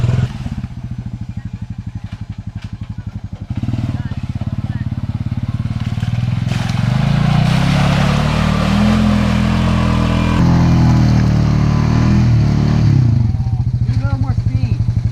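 A Honda Pioneer 500 UTV with a long travel kit churns through soupy mud in two-wheel drive, its engine droning loud and close throughout and swelling as it pushes on, with clattering and sloshing mixed in.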